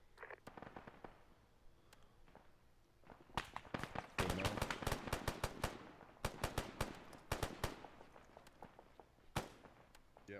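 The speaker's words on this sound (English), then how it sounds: "Hearing fire over to the northeast." Distant gunfire in the video game ArmA, with sharp scattered shots and rapid bursts rolling in from afar, growing denser midway before thinning out again.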